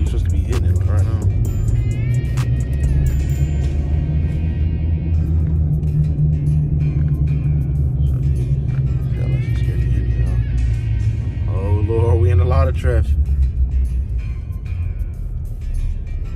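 A pickup truck in sports mode gives a deep, steady engine rumble close up from inside the cab, swelling briefly as it accelerates, with people talking over it.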